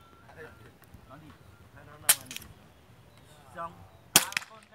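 Two sharp gunshots at an outdoor shooting range in Purwodadi-Grobogan crack about two seconds apart at a target 32 meters away, loud and close against a quiet background with faint murmuring.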